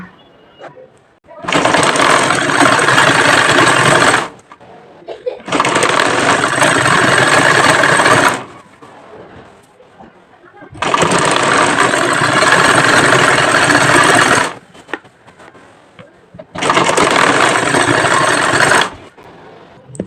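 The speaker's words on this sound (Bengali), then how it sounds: "এভাবে আমি সেলাইটা দিয়ে নেব।" A sewing machine hums loudly and steadily in four long runs of about three seconds each while hemming the leg opening of a salwar, with near-silent pauses between stretches.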